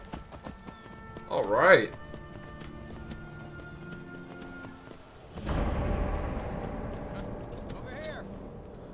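A horse's hooves clatter in a quick galloping rhythm within the fantasy game Skyrim, moderately near, mixed with game sounds and a brief burst of noise, while someone talks over it.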